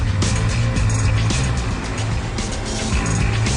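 A Porsche 911 GT3 of the 997 generation rolls past loudly and close, with a steady engine drone, road and tire noise, and faint rhythmic thumps throughout.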